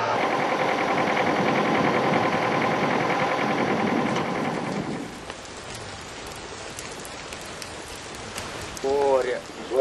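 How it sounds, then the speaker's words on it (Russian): Rain falling outdoors on a farm, a steady broadband hiss that is loud for the first five seconds, then thins to a quieter patter with a brief voice near the end. "От дождика прячься."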